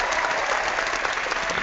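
Applause sound effect from Google Effects: a short, dense burst of crowd clapping, steady and even throughout.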